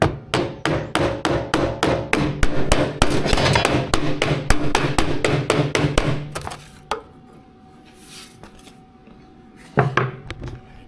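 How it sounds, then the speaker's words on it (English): Rapid series of sharp wooden taps from a small wooden hammer, about twenty evenly spaced close strikes, then a pause and a couple of isolated knocks amid quiet room tone. "I got a little bitty wooden hammer here."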